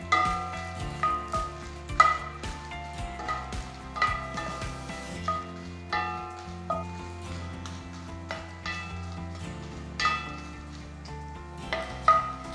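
Red chillies dry roast in a pan over a very low flame, with curry leaves, for a chutney powder. Stirring scrapes return at a regular pace over a soft, steady sizzle, with a tonal background throughout.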